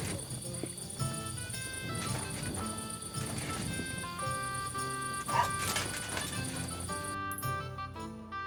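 A dog in Kingdom Come: Deliverance II gives repeated yips and barks with a whimpering edge, set against game music, with a voice talking nearby.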